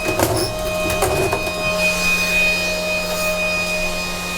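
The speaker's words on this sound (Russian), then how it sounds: "Вентилятор разгоняется." Cooling fan of an ESAB LHN welding inverter running under load in MMA mode, a steady whirring drone with a constant high whine and a few brief clicks near the start.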